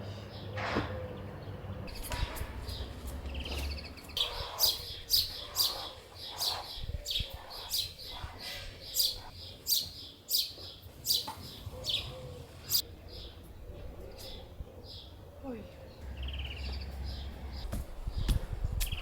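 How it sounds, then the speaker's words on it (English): Birds sing outdoors at a family home in Portugal, with repeated bright chirps and short calls spread across the scene and a low background hum in places. "Listen to the birds."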